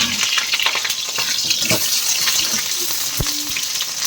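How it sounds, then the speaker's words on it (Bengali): Potatoes frying with salt and turmeric, a loud continuous sizzle with bursts of stirring and a sharp metallic knock near the end. "লাল করে একটু ভেজে নেবো নুন হলুদ দিয়ে।"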